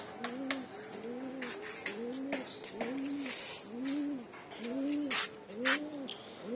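Repeated soft pigeon coos in a steady rolling rhythm, several birds calling close by in their loft after a night storm, with faint chirps and light background noise.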